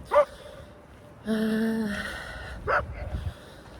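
A few scattered dog barks and a short whining yelp, moderately close, with a quiet gap between them and a faint background hum.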